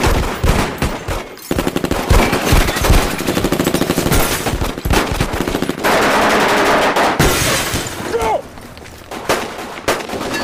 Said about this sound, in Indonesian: Dan tak lama kemudian aksi tembak-menembak pun terjadi.